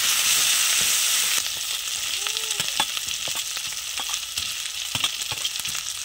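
Potatoes frying in a pan with salt, turmeric and chilli powder, a steady close sizzle with scattered clicks and scrapes of stirring throughout, louder at the start then settling.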